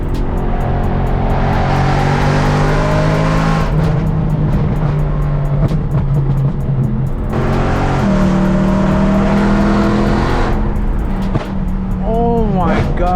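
A BMW E92 M3 engine revs hard while driving, rising and falling in bursts between shifts, with a chirp of tires near the end and excited voices talking over the loud engine.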